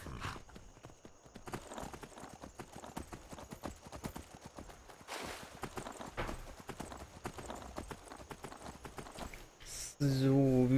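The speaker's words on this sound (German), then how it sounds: "Ach, mein Pferd ist auch da." A horse's hooves clip-clop in a steady, rhythmic walk in the video game Skyrim, with someone talking over the hoofbeats and a louder sound cutting in near the end.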